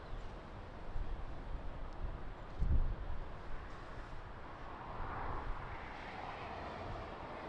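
TAP Air Portugal Airbus A320 at Lisbon Airport in strong crosswind, a low, steady distant engine rumble with a brief thump near the middle and a faint rising whine later.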